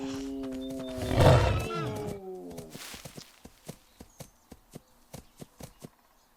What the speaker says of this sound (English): aside from horses, I'm hearing wolves close